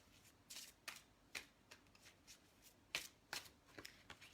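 Oracle cards from a plant and animal spirit deck are shuffled and drawn, giving quick papery riffles and snaps in short bursts. The sound is close and soft, with brief pauses between the flicks.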